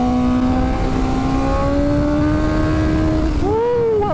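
A BMW M1000R naked motorcycle accelerating, its engine note climbing steadily through a gear, then a quick drop and a fresh rise as it shifts, loud and close over wind noise, with no talk.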